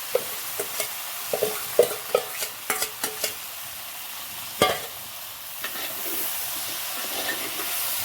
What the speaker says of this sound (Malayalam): അത് നന്നായി ഇളക്കാം എല്ലാം ഒന്ന് മിക്സ് ആട്ടെ കറക്റ്റായിട്ട്